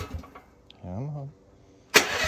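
A Chinese mini excavator is started on full choke with a little throttle: the starter cranks in a brief droning whir, then after a pause the engine bursts loudly into life and keeps running.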